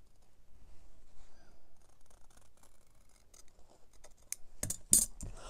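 Scissors cutting fabric for a laptop bag: quiet snipping and rustling at first, then several sharp, loud close cuts near the end.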